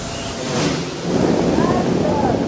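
A film's storm-at-sea scene gives a roaring wash of wind, waves and rumbling thunder, swelling in loudness midway through with no clear speech.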